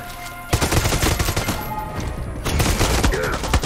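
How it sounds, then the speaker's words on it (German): Rapid gunfire rattles loudly in Far Cry 6 during a fight at a weather station, with dense automatic bursts running almost nonstop for several seconds. "Ich schieß gerade einfach mal auf so ein paar Umrandungen."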